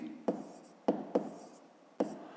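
A pen or pencil writes down a math answer on paper, four short distinct taps and strokes spaced unevenly, close and quiet with no talk.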